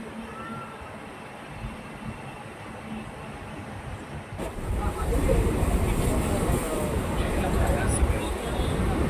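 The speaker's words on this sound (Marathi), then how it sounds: "ट्रेन आली ट्रेन आली वाव" A train rumbles in, the broad rushing noise swelling louder midway and staying heavy to the end, with people talking faintly in the background.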